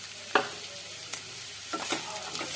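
Green peas tipped into sautéed onions in a pan for tomato rice, giving soft sizzling with a few sharp clatters and stirring scrapes, steady and close with no voices.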